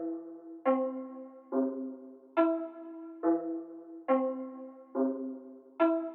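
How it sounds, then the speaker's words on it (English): Soft ambient guitar preset Behind the Bridge Soft from an Ambient Guitars collection plays sustained chords that swell in every second or so, each note blooming with a gentle attack and lingering warm tail, unaccompanied. "the preset that I'm using is called Behind the Bridge Soft."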